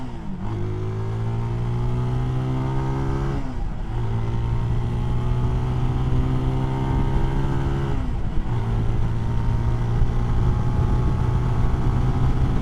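A CSC SG250 cafe racer motorcycle runs at full throttle on a highway, its engine droning loudly and steadily, pitch rising through gears with brief dips at two shifts amid constant wind roar.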